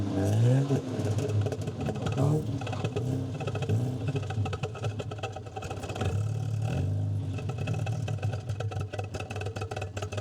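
A 1972 Opel GT engine idles roughly, then revs and pulls away, its pitch rising and falling through gear changes, loud and close with a rattly mechanical texture.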